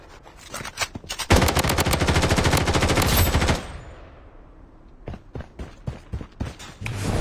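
Video game gunfire: bursts of automatic machine-gun fire, loud and close, with one long sustained burst in the middle and shorter scattered shots around it.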